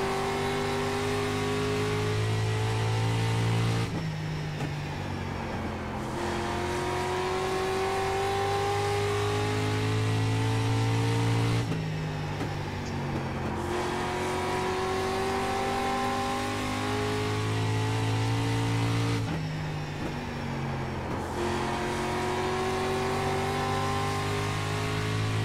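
A street stock race car engine in iRacing at Southern National Motorsports Park, revving loud and close with rising pitch on each straight, dropping sharply three times as it lifts for the corners, then pulling hard again.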